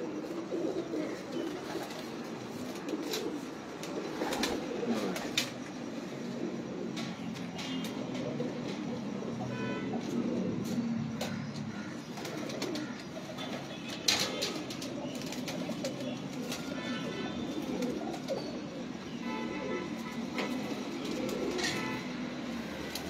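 Pigeons coo steadily and softly at a distance amid a continuous low background hum, with occasional faint clicks and rustles.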